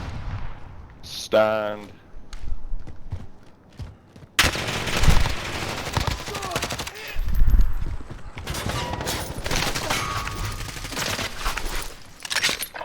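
Gunfire in the video game Warzone, with sharp shots and bursts scattered through a busy, loud battle mix, and players talking over it.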